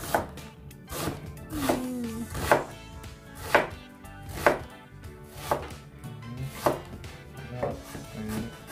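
A knife chops food on a cutting board during lasagna prep, giving a steady run of crisp, close knocks about once per second with no speech.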